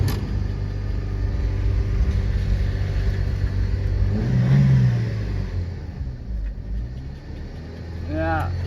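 The engine of a 2004 Chevrolet Optra with a radiator leak idles high at about 3,000 RPM, a steady close rumbling drone with a slight swell midway and faint background noise.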